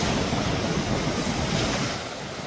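Sea waves washing steadily and loudly at a broad stretch of coast, a dense continuous rush with wind buffeting the microphone, easing slightly toward the end.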